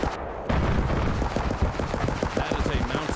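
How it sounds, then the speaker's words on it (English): A mounted grenade launcher firing in Escape from Tarkov, heard as a rapid, steady stream of heavy thudding shots, loud and continuous under dense battle noise. "That is a mounted grenade launcher that I'm getting away from because I don't want to die."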